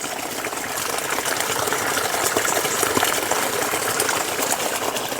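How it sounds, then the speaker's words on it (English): Continuous broadband rush of heavy rainwater cascading down a ditch, close and steady, with no voices. "Now you can hear all the water cascading down here"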